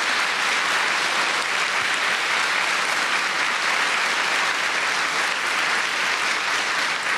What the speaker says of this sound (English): A round of applause for the two students.